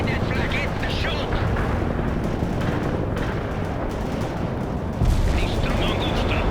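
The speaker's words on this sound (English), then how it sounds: "Cluster bomb hits." Cluster bombs go off in World in Conflict as a dense, continuous rumble of overlapping blasts and battlefield fire, loud throughout with a heavier surge near the end, and unit voices come through in places.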